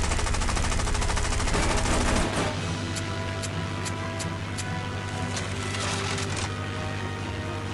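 Aircraft guns firing in the War Wings mobile flight combat game: a rapid machine-gun burst with a droning engine hum for about two seconds, then scattered sharper shots and continuous engine noise.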